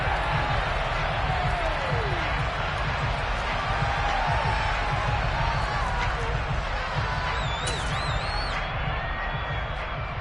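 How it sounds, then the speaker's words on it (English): A football stadium crowd shouts and murmurs in a dense, continuous roar while a replay is shown, with a commentator's voice running over the noise. "Plenty of shouts from this crowd as they watch the replay."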